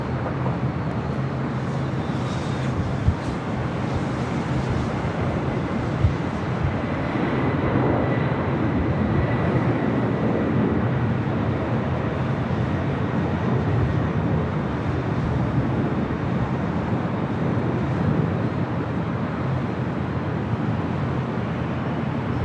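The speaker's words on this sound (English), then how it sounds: "It's converted 767-300ER, now rolling down at 25 left." A converted Boeing 767-300ER cargo jet rolls for takeoff on runway 25 left at LAX. A broad, steady jet-engine roar holds at loud, even strength for over twenty seconds and is heard from a distance, with no voices.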